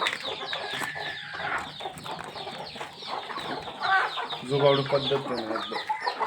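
Native desi hens at a low-cost egg-laying poultry farm, nesting in cut oil tins, clucking and cackling repeatedly up close, with other birds in the background and a voice speaking partway through.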